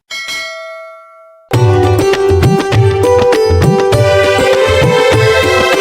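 A bright chime rings out and decays, then gives way to loud, rhythmic music with repeated bell-like clangs over a steady beat.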